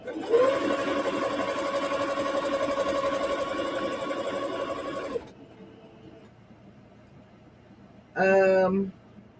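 A Singer Sew Mate 5400 sewing machine runs in one loud, steady whirring stretch for about five seconds, then stops abruptly, leaving a faint low hum before a brief, louder mechanical burst near the end.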